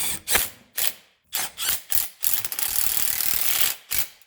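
A Snap-on 14 mm flex-head ratchet runs up transmission bolts on a 2009 Subaru Forester during clutch work: close, loud bursts of rapid clicking, several short strokes and then one longer continuous run.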